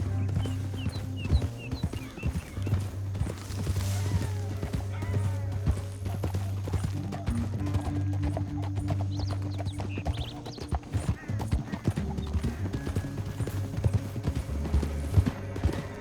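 Horse hooves clip-clop at a steady trotting rhythm in Red Dead Redemption 2, close and continuous across a canyon ride, with a low musical drone and occasional whinnying beneath.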